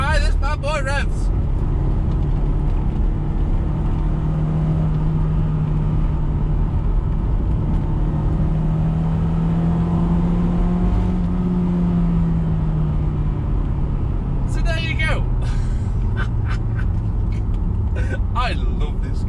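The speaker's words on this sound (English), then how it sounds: "There's not a lot of induction noise, but a lot of healthy revving." A Toyota MR2 fitted with an induction kit built from scrap parts runs at a steady engine drone that rises and falls through the revs. Someone talks over it throughout, and a few sharp clicks break in near the end.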